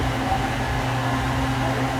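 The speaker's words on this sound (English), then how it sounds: "there's a loud blender" A loud blender runs close by, a steady droning whir with a constant low hum and no pauses, with no talking over it.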